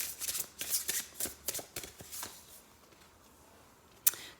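A deck of Priestess Light Oracle cards is shuffled by hand, giving a run of crisp, close riffling bursts that fade into quiet. A single sharp snap of the cards comes near the end.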